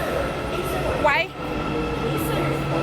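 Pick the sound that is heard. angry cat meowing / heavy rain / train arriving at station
train arriving at station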